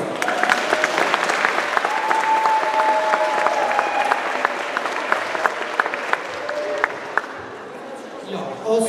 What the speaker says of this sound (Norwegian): Stor applaus til Hans.